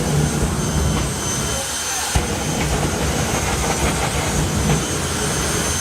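Two jet dragsters launch down the drag strip at a European drag racing final, a loud, continuous jet roar with a hissing high end that holds steady throughout.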